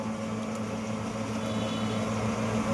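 A steady mechanical hum and whir from a natural oil mill machine pressing safflower seeds for oil, droning evenly and continuously with no breaks.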